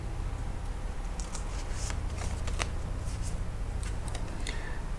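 Tarot cards shuffled and drawn during a reading, giving soft riffling and flicking bursts with a few sharp snaps, close and quiet over a steady low hum, with no talking.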